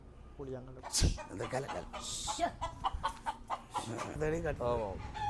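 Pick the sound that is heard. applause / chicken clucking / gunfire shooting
chicken clucking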